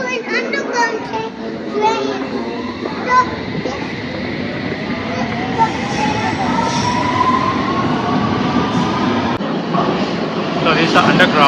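A London Underground train rumbles steadily at Tower Hill, its low roar building and brightening as it runs, with voices audible in the background.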